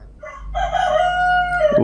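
A rooster crows loudly and close by in one sustained cock-a-doodle-doo lasting over a second, heard alone without talk.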